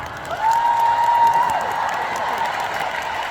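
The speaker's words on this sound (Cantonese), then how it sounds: "我希望得到大家最大力嘅掌聲，" An audience applauds and cheers at a concert thank-you event at Kai Tak, a dense, steady wash of clapping with a sustained whistle-like tone early on and crowd noise throughout.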